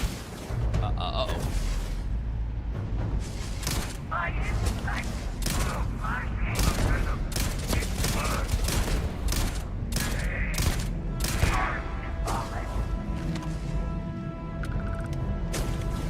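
Shotgun blasts in Starfield's Shattered Space expansion crack repeatedly through a dense, busy layer of game noise and clatter, with a voice talking over the action throughout.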